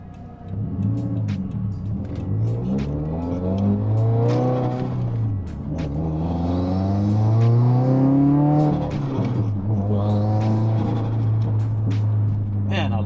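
A rough, deep engine in a tuned Subaru WRX revs and pulls through rising gears, its growl climbing and dropping repeatedly, loud and close throughout.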